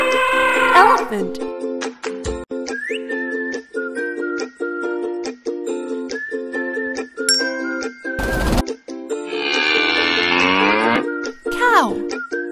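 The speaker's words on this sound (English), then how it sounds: "Cow." A cartoon cow in a children's animal puzzle video game lets out a drawn-out moo over cheerful looping game music with bright chimes and dings.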